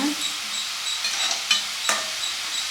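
A snack fries in hot oil with continuous crackling sizzle, close and fairly loud, broken by a couple of sharper clatters as the pieces are turned over.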